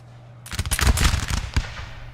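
A ragged musket volley fired in Napoleon: Total War crackles out as a rapid cluster of overlapping shots, followed by a sharp final report and a fading rumble.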